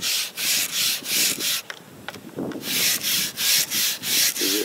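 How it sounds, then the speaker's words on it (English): A brass wire brush scrubs an oar handle in rhythmic back-and-forth strokes, close and bristly, with a short pause in the middle before the scrubbing resumes. "And then I use a brass wire brush. A steel brush is too harsh. And we just scrub."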